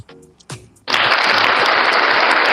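An audience breaks into loud, sustained clapping that starts abruptly after a few brief voices and fills the room, dense and close.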